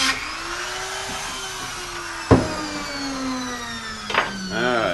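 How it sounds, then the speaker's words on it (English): A bench grinder works on steel hinges for a C10 truck door, its motor whine sliding slowly in pitch with a sharp grinding contact midway and another near the end, while a voice briefly joins at the close. "it's time to take these hinges to the grinder and make them fit."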